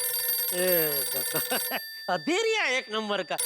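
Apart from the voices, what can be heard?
telephone ringing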